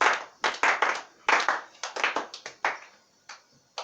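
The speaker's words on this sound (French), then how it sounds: "Acclame fortement pour le Seigneur." A church congregation applauds after a prayer, a short burst of close, uneven handclaps that thin out toward the end.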